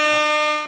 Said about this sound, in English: I even had the air horn going for you